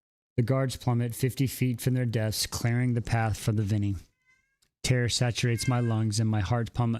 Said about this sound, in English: Y'all can hear the kitty cat in the background?